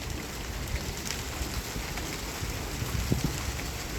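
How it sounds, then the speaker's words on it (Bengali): Heavy rain during a nor'wester storm falls on a rooftop garden, a steady, dense wash of hiss and patter that stays even throughout with no voices. "বৃষ্টির শব্দটাও খুব ভালো লাগছে"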